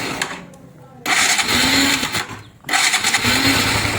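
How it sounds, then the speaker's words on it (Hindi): A Bajaj Pulsar NS200 motorcycle engine, running poorly without petrol in the tank, roars close by in two loud bursts, dropping out briefly between them, then revving again with a rough, buzzing tone. "तो इंजन की साउंड भी आप इंजन की साउंड भी सुन सकते हैं"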